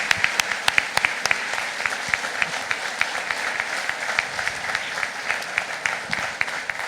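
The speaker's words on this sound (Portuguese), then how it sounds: "Aplaudimos." Audience applause at a state church convention, steady clapping with sharp individual claps standing out, filling the space alone with no talk over it.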